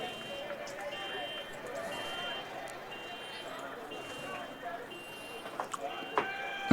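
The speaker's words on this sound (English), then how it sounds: "And we got a fire alarm going on at the school." A school fire alarm sounds faintly and steadily in the background at a college football game, under commentary and crowd noise.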